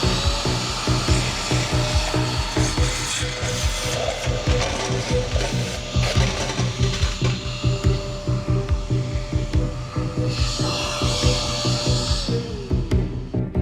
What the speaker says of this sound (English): Let's suck them all up, see what goes on.